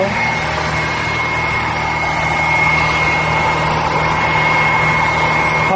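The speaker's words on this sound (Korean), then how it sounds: "다시 이제 차로 가서 시동을 켜고 왔어? 스타트" A car engine idles after being started with a start button, during engine combustion-chamber carbon cleaning with a Haizen carbon cleaner, a steady continuous hum and drone with no talk.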